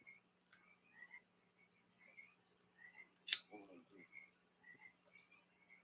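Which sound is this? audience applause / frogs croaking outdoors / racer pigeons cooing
frogs croaking outdoors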